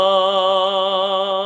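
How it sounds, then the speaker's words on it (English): A single sustained sung note with clear, regular vibrato gently wavering the pitch, held steadily for a second and a half, solo and close. "And then vibrato is going to sound like this,"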